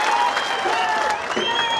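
Crowd applause rings out at a political campaign rally in Sangli: loud, dense clapping that holds steady for the whole stretch, with faint background voices.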